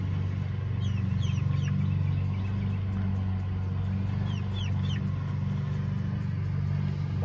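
Three-week-old chicks outdoors, giving soft high chirps and clucks in scattered bursts over a steady low rumble of background traffic.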